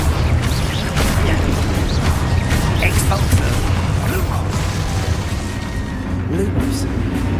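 Expulso blast spells in a Hogwarts Legacy battle: repeated booming bursts and sharp pops over a dense, continuous roar of combat noise. Voices come and go throughout.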